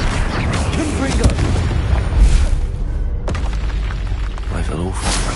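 Confringo fire spells in the Hogwarts Legacy video game burst as heavy, booming blasts over a dense battle din, while a voice shouts in the foreground.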